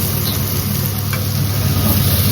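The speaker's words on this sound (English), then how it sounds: "So I added a splash of water with the Bengali paste and frying that for 2 minutes." Peppers, ginger and Bengali paste with a splash of water fry in a pan for a prawn jalfrezi, giving a steady, close sizzle with no talking.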